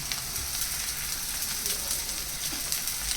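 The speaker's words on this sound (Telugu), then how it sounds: "ఇప్పుడు అదే ఆయిల్లో ఆనియన్స్ వేసుకొని ఇలా కట్ చేసి పెట్టుకున్న మొత్తం ఆనియన్స్ అంతా వేసేసుకోండి" Onions tipped into hot oil in a pan sizzle and fry with a steady, even crackle throughout, close and moderately loud, with no talking over it.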